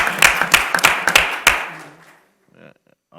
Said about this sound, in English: Let's welcome them with a round of applause again